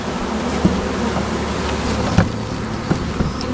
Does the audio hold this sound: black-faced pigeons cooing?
no